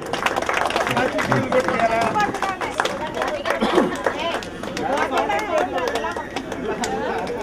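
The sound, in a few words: audience clapping for Sunil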